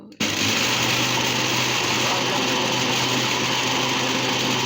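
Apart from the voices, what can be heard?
blender running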